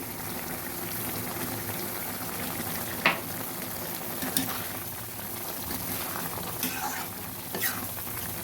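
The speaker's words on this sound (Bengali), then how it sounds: "ভালো করে নেড়ে ঢেকে অফ করে দেবো" Baby banana curry with garam masala and ghee in a pan, a soft steady bubbling sizzle with a few sharp spoon scrapes and knocks from stirring, no voices.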